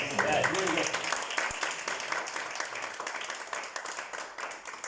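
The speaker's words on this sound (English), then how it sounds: "Can we give a big clap to Sunny?" A small meeting audience claps for a speaker, dense even clapping that fades gradually over five seconds, heard close with a short spoken bit at the start.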